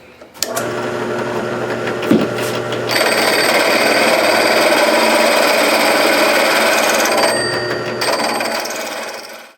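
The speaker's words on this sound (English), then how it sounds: "we'll drill from the other side." A loud power drill whines steadily as a hole saw cuts through wood, running for several seconds before winding down, with a brief knock near the start.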